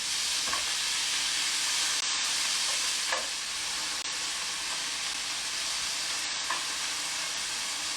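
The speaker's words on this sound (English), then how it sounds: "I'm just browning it, and then I'm going to be putting it in my pressure cooker." Beef browns in a hot pressure cooker with a steady, close, loud sizzle and crackle throughout, broken by a few faint stirring clicks.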